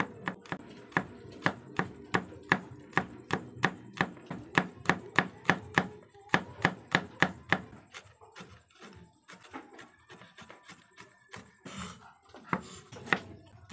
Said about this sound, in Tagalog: Hiwain lang po natin ng pinong-pino yung ating garlic.